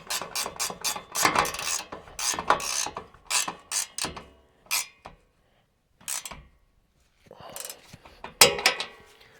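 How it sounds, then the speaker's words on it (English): Ratchet wrench tightening bolts on an ORO bed rack mounted over a soft truck bed topper: close, quick bursts of clicking pawl strokes with short pauses and a few metallic taps in between. "We're gonna quickly tighten these down."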